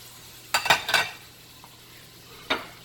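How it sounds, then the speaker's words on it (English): A beef pot roast browns in a hot pot, giving a faint sizzle broken by a few sharp tong and pot clatters near the start and another near the end. "I'm gonna brown that on each side till I get a nice crust"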